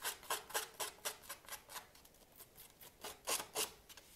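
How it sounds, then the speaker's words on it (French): Scissor blade scraped along card to score a fold line for a Christmas accordion card: a close, rhythmic rasping of about fifteen quick strokes, alone with no talking. "Moi, je prends tout simplement un ciseau. Alors, c'est de ce côté-là. Et je gratte."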